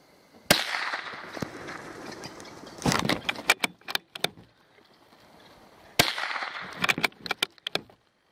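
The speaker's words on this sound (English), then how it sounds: "The first shot was a good shot, and then I took a quick second shot" Shotgun blasts while hunting gamebirds in the Limpopo Valley: two sharp, fairly loud reports about five seconds apart, each followed by rattling echoes and scattered clicks outdoors.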